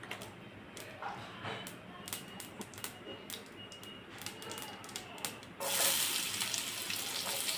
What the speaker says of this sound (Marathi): मोहरी कडकडायला लागली जिरं टाकून घ्यायचं